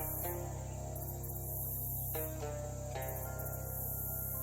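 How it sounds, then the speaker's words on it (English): Chorus of frogs croaking in a video game swamp, a dense steady trilling wall of calls that sounds close and continuous, with a few brief brighter accents breaking through, no talking. "Distant frog sounds become less distant frog sounds as you find yourself close to a lot of frogs"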